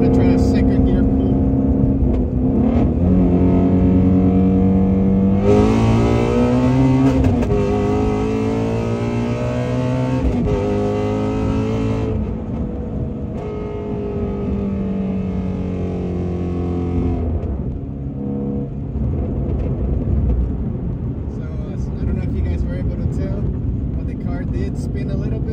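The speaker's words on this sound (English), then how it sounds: "So I'm gonna try a second gear pull." A Shelby GT350 Mustang on Michelin Pilot Sport 4S tires and SVE R350 wheels pulls hard in second gear, its engine roaring loud and close as the pitch climbs steadily through the rev range, easing and climbing again.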